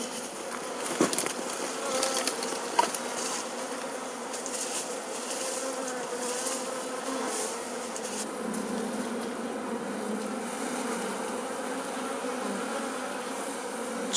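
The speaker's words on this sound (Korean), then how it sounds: "벌꿀은 집을 잃은 꿀벌들을 벌통으로 이사시킵니다." A dense swarm of honeybees from a wild colony in an old tree being gently moved into a hive, making a steady, loud, close buzzing drone that continues throughout, with a few faint knocks early on.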